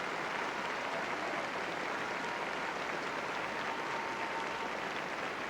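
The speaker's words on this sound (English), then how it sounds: "returning to acknowledge the applause of the audience" Concert audience applauding Luciano Pavarotti as he returns to the stage at a New York concert with Joan Sutherland in 1979, steady dense clapping from a large hall that holds evenly throughout.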